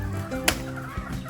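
A short gobble-like call from a live turkey in a rural provincial yard, one brief burst over background noise, with a faint second sound near the end.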